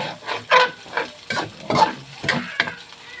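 Pork fat rendering and frying in a pan for pakbet, with loud repeated stirring strokes over a crackling sizzle, uneven bursts roughly every half second, close up, no talk.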